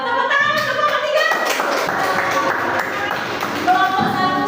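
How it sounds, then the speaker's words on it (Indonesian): Primary school pupils in a classroom clap for a group of classmates, a loud burst of many hands that carries on throughout while children's voices chatter and call out over it. "Tepuk tangan untuk kelompok 3"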